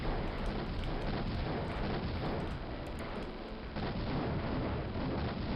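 Research buildings blown up in the Raptor: Call of the Shadows shooter game, a dense continuous roar of overlapping explosions and rapid gunfire with no pauses, loud and unbroken throughout; no talking.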